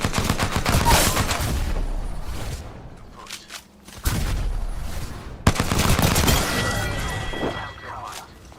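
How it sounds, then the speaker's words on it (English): Apex Legends gunfire: dense volleys of automatic fire and heavy impacts, near and loud, that briefly dip into a lull before sharp new blasts resume. "I'm under fire"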